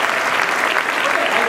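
Comic convention crowd at a Stan Lee spotlight panel gives loud, sustained applause, a continuous roar of clapping hands filling the room.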